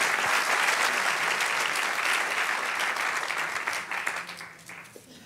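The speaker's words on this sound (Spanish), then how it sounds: "Denle un aplauso al Señor." Congregation in a church clapping together, a dense sustained round of applause that stays loud and then tapers off toward the end, with no voices over it.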